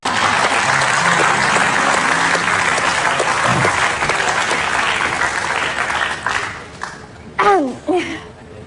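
A studio audience at an Indonesian TV comedy talk show claps in a dense, steady burst. The applause fades over the last few seconds while a voice begins speaking.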